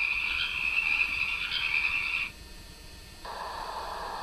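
Steady chorus of frogs croaking in a dense, continuous trill from a koi pond sound app, dropping out briefly before a lower croaking layer returns; no voices.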